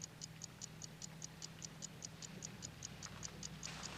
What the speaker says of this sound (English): So now the watch ticks.